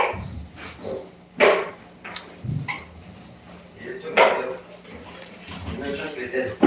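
Dogs bark in a home kitchen with sharp, scattered bursts at irregular intervals, mixed in among people talking in Spanish nearby.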